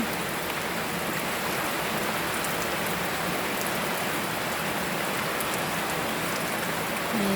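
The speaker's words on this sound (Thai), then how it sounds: "ช่วงนี้นะคะฝนก็ตกทุกวันเลยนะคะ" Continuous heavy rainfall, a uniform hissing patter of drops striking the ground, unbroken and alone.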